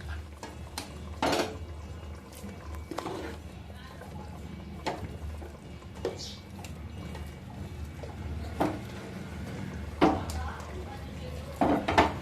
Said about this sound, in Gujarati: બાફેલી ખીચડી છે એ નાખી દઈશું